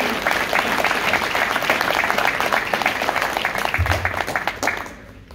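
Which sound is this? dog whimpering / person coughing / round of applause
round of applause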